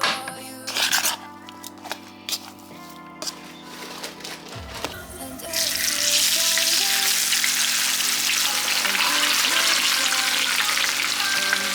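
Food hits reused fish-frying oil in a pot on the stove and bursts into a loud, steady sizzle that runs on to the end, after a few seconds of clattering and kitchen handling.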